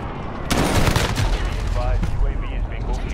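Heavy explosive impacts and gunfire from a precision airstrike in a military shooter game, a loud dense barrage of blasts and rumbling with radio-style voice chatter underneath.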